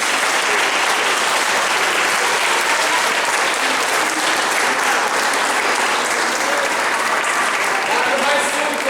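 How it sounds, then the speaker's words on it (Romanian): Sustained applause from a church congregation clapping for the children, steady and dense for the full stretch, with a few voices mixed into the crowd. "să aplaudăm pe toți copiii"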